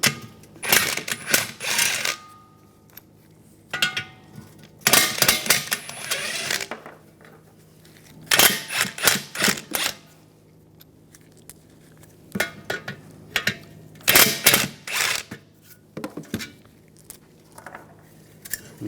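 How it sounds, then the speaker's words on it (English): A ratchet socket wrench with a 12mm socket removing heat shield bolts from the exhaust manifold of a 2013–2018 Hyundai Santa Fe, with bursts of quick metallic clicking separated by pauses and a few clinks of metal parts. "Use a 12mm socket. Take these bolts out and then the other two on the other side."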